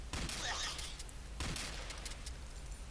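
Gunfire rings out in the turn-based sci-fi video game Stellar Tactics, as a few quick shots from a single-fire weapon crack in a short burst followed by a fading echo, set against a low game background.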